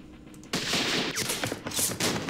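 Gunfire from a Second Arab-Israeli War battle at the Rafa crossroads in the Campaign Series Middle East wargame, a sudden volley of overlapping shots crackling on for about two seconds, loud and dense.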